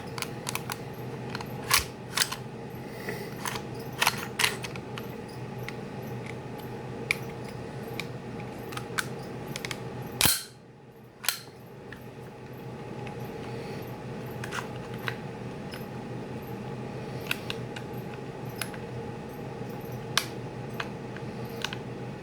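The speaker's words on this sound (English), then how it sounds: "you should be able to hear it click back into place, and the barrel will be on" An airsoft H&K-style pistol barrel snaps back into place during reassembly, heard as a long run of small sharp plastic clicks with one louder clack midway, close up and with no talking.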